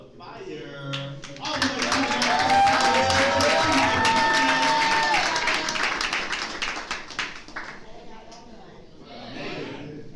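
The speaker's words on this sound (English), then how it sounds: "please clap it up real loud for Fire" Open mic audience clapping loudly for the next performer, a dense wash of applause building quickly and holding for several seconds before thinning out, with a voice talking over it.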